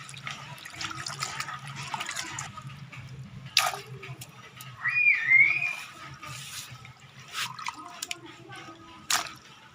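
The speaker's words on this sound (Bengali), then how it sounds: "প্রথমে সবজিগুলো ধুয়ে নিচ্ছি ভালো করে।" Mixed vegetables for a labra being washed in water, with intermittent splashes and drips of water, close and fairly quiet, over a low background hum.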